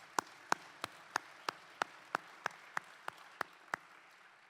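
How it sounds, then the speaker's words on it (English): Sparse, evenly spaced claps from a small audience at a commercial real estate forecast symposium, about a dozen sharp separate hand claps in steady rhythm, moderately near, with no talking over them. "Please, let's give all of these individuals a round of applause."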